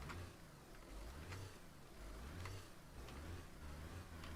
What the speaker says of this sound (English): So we are going to rev it.